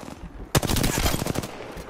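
Gunfire in a video game bursts out after a quiet start, a rapid machine-gun string of loud shots followed by a few scattered rounds with faint game ambience.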